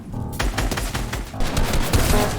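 Rapid bursts of gunfire from Fortnite, a dense crackling volley of shots with no pauses, loud and close.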